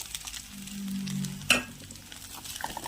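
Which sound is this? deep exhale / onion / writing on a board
onion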